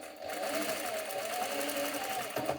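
A sewing machine running steadily while stitching a drawstring skirt, a fast continuous mechanical whir with rapid needle chatter, close and fairly loud, ending with a brief clunk as it stops.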